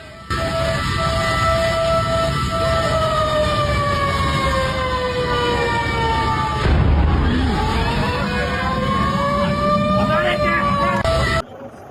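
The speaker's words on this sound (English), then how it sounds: "the sound of whispers and fire truck sirens added to the intense atmosphere" Fire truck sirens wail loudly and continuously, their tones sliding up and down and overlapping, with a rumbling engine and voices underneath.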